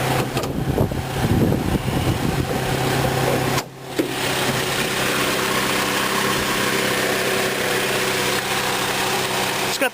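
A 2003 Saturn VUE AWD with a 2.2 liter 4-cylinder engine idles close by with a steady low hum and a faint rattle, its tone changing after a brief dip partway through.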